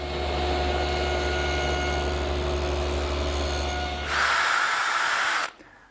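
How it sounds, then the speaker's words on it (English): A table saw whines steadily as its single blade cuts a groove in wood, its tone shifting and rising near the end before cutting off abruptly. "Here's the setup: a single saw blade."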